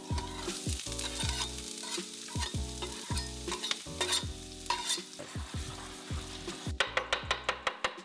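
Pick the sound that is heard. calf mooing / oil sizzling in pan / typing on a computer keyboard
oil sizzling in pan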